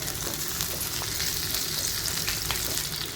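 Onions for biryani frying in a hot pan, a bright steady sizzle with crackling spits throughout, close and fairly loud, with no voices.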